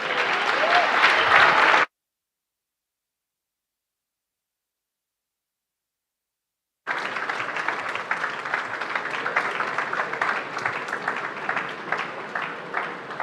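An audience at a Ghanaian business event applauds a speaker: a dense burst of clapping, a full silent gap of several seconds, then another sustained round of applause continuing to the end.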